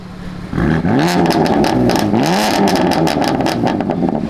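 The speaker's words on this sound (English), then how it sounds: "I didn't even have to ask him to rev the car" A matte black BMW M4 at a car meet revs hard, its engine climbing and dropping through two sharp rising sweeps before holding a loud, rough burble, close by and with no talk over it.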